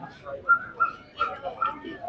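Dogs at a dog show in Nellore give several short, high yips and whimpers in quick succession, close by, with faint background chatter.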